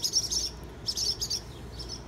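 A mother bird near a nest of straw and mud gives repeated high, thin chirping calls in three short bursts, fairly close and clear over a quiet background with no talk.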